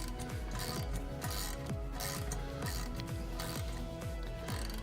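Rapid, steady ratcheting of a socket wrench tightening bolts while a piece of equipment is set up, with continuous loud clicking that repeats in even bursts throughout, close and with no voices.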